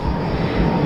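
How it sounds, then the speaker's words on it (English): A propeller airplane drones loudly overhead in a garden, a steady engine roar that holds throughout the brief moment with no other sounds over it. "I apologize for the plane"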